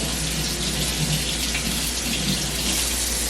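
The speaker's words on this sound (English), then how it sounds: "Now I'm gonna get some more water." Tap water runs continuously into a sink during a surgical hand scrub. It makes a dense, even splashing rush close by with no pauses and no talking.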